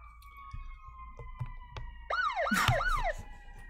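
Distant emergency sirens wailing outside, rising and falling in repeated sweeps, faint at first then swelling louder near the end.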